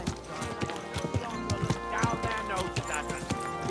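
Horse hooves clip-clop in a steady walking rhythm on a road in Kingdom Come Deliverance 2, close and clear, with a horse's whinny and a voice talking over the gait.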